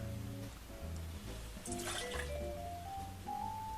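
Beefeater London Dry gin being poured into a cocktail, a short glugging, dripping pour with a rising liquid tone near the end, close and alone.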